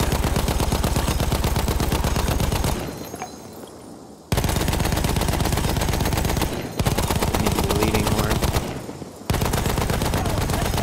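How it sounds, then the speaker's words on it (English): Sustained machine gun fire in a video game, loud, dense and continuous, coming in three long bursts separated by brief gaps, with no talk over it. "We'll just use the machine gun."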